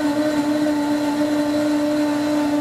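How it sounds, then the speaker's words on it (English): A kitchen blender whirs steadily while blending a smoothie, producing a loud, even motor drone with a strong whining tone and no break or speech. "That's a nice blender."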